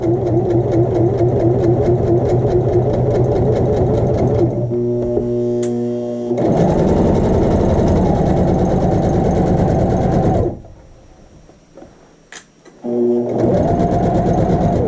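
A sewing machine stitches a flat felled seam in rapid, loud mechanical bursts, stopping briefly twice before starting again, close up and with no talk over it.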